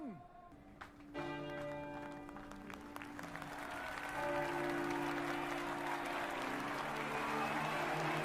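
Applause and crowd noise from a House of the Dragon episode rise and swell into a sustained roar, with tonal music underneath and voices over it.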